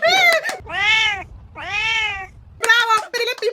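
A child imitates a cat with two long, drawn-out meows, close and clear, framed by short bursts of other voices talking before and after.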